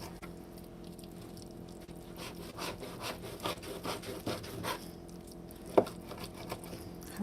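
A dull kitchen knife saws through thick fish skin in repeated rough strokes, soft rasping and squishy scraping close up, with a sharper knock near the end.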